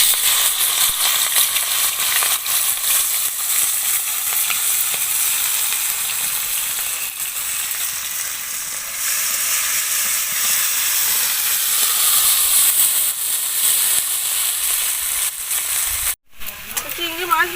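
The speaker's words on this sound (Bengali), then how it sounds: "নুন হলুদ মাখিয়ে রাখা চিংড়ি মাছগুলো ভেজে নেব।" Shrimp coated in salt and turmeric fry in hot oil with a loud, steady sizzle and hiss that runs close and continuous, breaking off briefly near the end.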